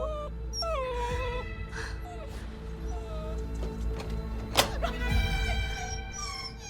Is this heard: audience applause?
no